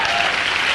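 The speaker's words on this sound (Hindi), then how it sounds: "इस बिजनेस के लिए और कंपनी के लिए मैं ताली बजवाना चाहता हूं" Audience applause for a business and company at a speaking event, a dense steady wash of clapping filling the short moment without any voices.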